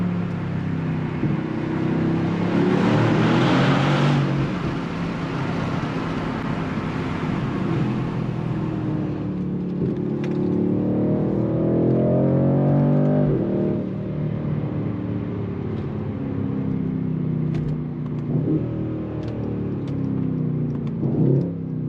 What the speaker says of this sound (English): That is a good upshift. It's a good gearbox.